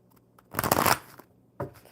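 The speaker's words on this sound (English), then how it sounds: "One more good shuffle, Rose." Playing cards shuffled by hand at a table, one dense riffling burst lasting about half a second, followed by a brief soft tap as the deck settles, close and clear.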